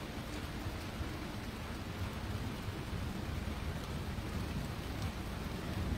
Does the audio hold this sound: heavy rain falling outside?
yes